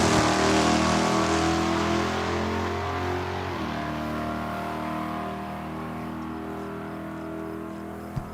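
Drag race cars launch at Saskatchewan International Raceway, a loud, sustained engine roar that slowly fades as they pull away, with no talking.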